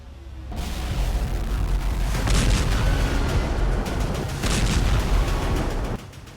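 Explosions from Russian attacks on the Ukrainian city of Kharkiv: a sudden loud blast swells into a long rumbling roar, a second surge follows midway, then the sound drops off abruptly.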